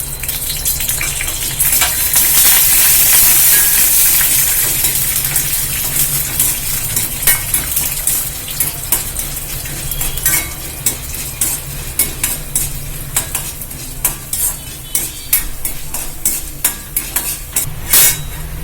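Urad dal and chana dal fry in peanut oil, giving a loud, steady sizzle with frequent scraping strokes from stirring, heard up close without speech.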